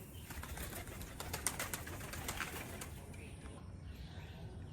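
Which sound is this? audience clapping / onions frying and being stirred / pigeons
pigeons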